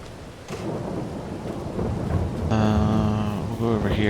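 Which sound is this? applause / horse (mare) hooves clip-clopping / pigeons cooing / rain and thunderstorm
rain and thunderstorm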